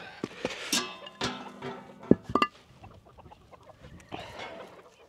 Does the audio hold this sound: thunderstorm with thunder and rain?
no